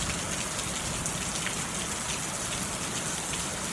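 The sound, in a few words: rain falling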